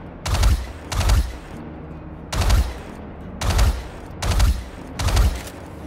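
Six short rifle bursts in burst mode from an assault rifle in the Star Citizen video game, fired in a steady spaced rhythm, each sharp and loud, with a brief decay between them.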